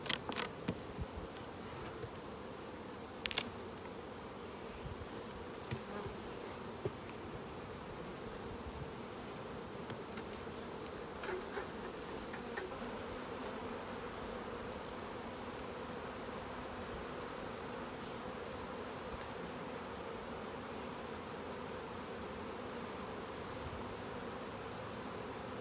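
Honey bees buzz steadily around an opened beehive in an apiary while brood frames are inspected, a dense continuous hum with occasional closer bees flying past and faint rustling.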